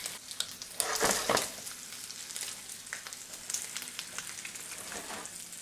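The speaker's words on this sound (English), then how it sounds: "I just cracked an egg into another frying pan and that's gonna cook fairly quickly" An egg cracked into a hot frying pan on a stove hob, giving a steady close sizzle with a burst of louder crackling early on, then settling into continuous soft popping and spitting.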